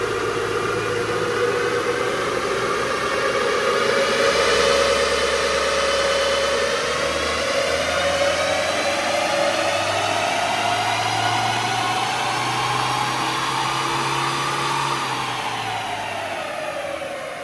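An Isuzu MU-X engine revs steadily upward under load on a dyno, its pitch climbing smoothly over several seconds before dropping off near the end.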